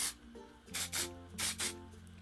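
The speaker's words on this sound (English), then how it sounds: "I just lift up my hair, spray it all in." Several short hissing bursts of dry texture spray aimed into hair close by, three main pulses with brief pauses between them.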